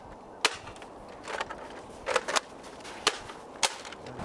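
A modified Nerf Recon dart blaster with air restrictors removed fires foam darts in a test, giving several sharp, fairly quiet pops and snaps spaced about a second apart against a soft background hiss.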